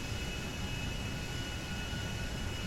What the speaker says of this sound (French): ça fait un boucan dans les oreilles si vous avez vraiment le son à fond dans les oreilles et vous prenez un avion de ligne